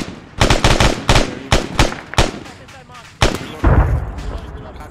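Rapid, loud gunfire in the military shooter ArmA 3: a string of sharp, close shots in quick succession, then a heavier blast and a rumbling tail, with voices talking faintly underneath.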